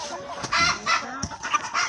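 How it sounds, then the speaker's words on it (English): A black sex link hen clucks in short, irregular bursts close by in a backyard coop setting, with a few soft, quick calls spaced through the moment and no one speaking. "that is a black sex link hen"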